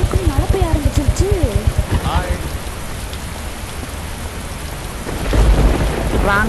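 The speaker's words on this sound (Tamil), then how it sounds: "எப்படிரா ஆளுக்கு மழை பெய்ய ஆரம்பிச்சிருச்சு" Steady rain pours with rolling thunder in an Indian Theft Auto video game scene, a broad hiss with a deeper rumble swelling near the end, while a voice talks over the opening seconds.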